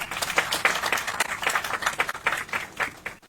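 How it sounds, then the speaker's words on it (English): A small crowd claps steadily for a few seconds at a youth democracy forum, the applause uneven and fairly close, then cuts off abruptly. "Let's give him another round of applause."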